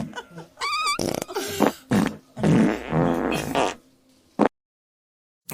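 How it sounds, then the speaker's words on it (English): Playful fart sound effects fired from an Elgato Stream Deck XL soundboard, a run of loud, close blasts and squelchy bursts separated by short gaps, then a final brief pop after a pause. "The fart soundboard makes it kind of funny and silly."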